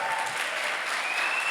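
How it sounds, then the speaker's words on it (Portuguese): Audience at a church talk applauding in a dense, steady wash of claps that holds at an even level from start to finish. "Vou aplaudir a Deus mesmo, gente."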